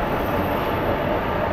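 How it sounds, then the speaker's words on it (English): An original Washington D.C. Metro subway car roars loudly and steadily with dense rumble and rail noise, giving a continuous wash of sound with no voices. "one of the original Metro cars."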